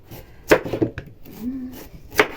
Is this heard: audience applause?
no